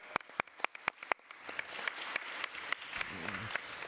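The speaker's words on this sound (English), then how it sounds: "I'm going to give you a round of applause on my own." A lone person claps at a committee hearing, with sharp separate claps in a steady rhythm at first, then a softer, denser patter with a brief low voice near the end.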